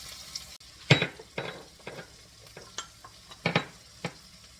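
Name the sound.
onion frying until golden brown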